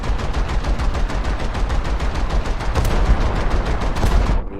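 Rapid automatic gunfire from naval guns in a video game hammers out in dense, relentless bursts, very loud and close, stopping abruptly at the end.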